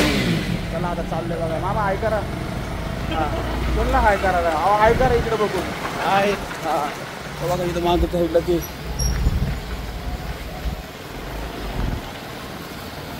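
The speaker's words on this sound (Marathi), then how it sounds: "आवाज कर आपल्या गाडीचा" A family car's engine runs and revs as it pulls away, a mid-pitched drone rising and settling under several people talking close by.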